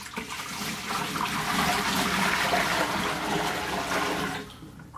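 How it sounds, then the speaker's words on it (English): Warm water pours steadily into a 10-gallon glass fish tank for bathing a bearded dragon, a continuous rushing gush lasting several seconds before stopping abruptly, close and fairly loud with no talking. "There goes some warm water."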